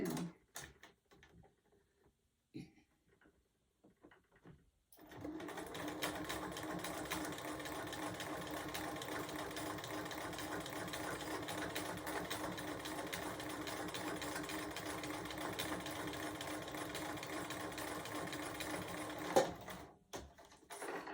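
A sewing machine quilts a small gingerbread mug rug, starting after a few seconds of faint handling clicks and then running in a steady close rapid hum-and-clatter for about fifteen seconds before stopping.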